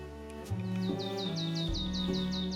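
Small birds chirp in the Korean mountains, a rapid series of repeated short downward tweets over a steady low background hum, moderately close and continuous.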